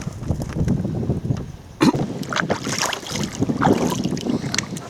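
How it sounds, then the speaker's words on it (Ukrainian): Gusty wind roars and rumbles against the microphone, rising and falling in strong bursts, with water and boat noises mixed in, while bream fishing on the Sula River. "вітер розігрується, мабуть, ще трошки"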